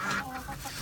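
Backyard chickens cluck in a short, soft burst of close calls, with no talk.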